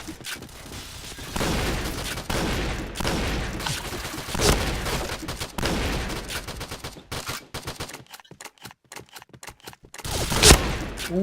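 Gunfire and an explosion in the shooting game PointBlank: rapid automatic bursts and single shots, dense then broken into separate cracks, with a loud blast near the end.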